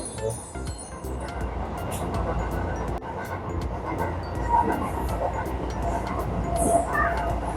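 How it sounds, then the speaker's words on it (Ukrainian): Steady rumbling and rattling fill the inside of a half-empty passenger train in motion, a loud, continuous drone with occasional higher clicks and squeaks from the carriage. "Їдемо зараз в потязі, він напівпустий."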